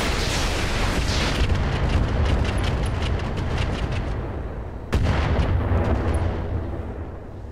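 Mech weapons firing in the Roguetech BattleTech game, a rolling barrage of heavy booms and rapid bursts, loud and sustained, then a sharp fresh blast near the end that fades into a rumbling tail.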